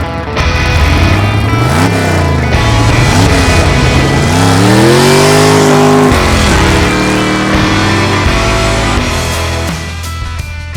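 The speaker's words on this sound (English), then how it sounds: "we're about to see the Camaro breathe some flames" A Chevrolet Camaro fitted with an exhaust flame kit revs hard several times, its engine note climbing and falling in loud sweeps, with sharp exhaust pops breaking in between the revs.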